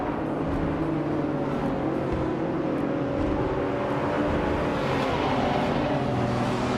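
A 2015 McLaren 540 race car in a racing video game at Brasilia, its engine holding a steady droning roar with slight shifts in pitch, continuous and fairly close, no talk over it.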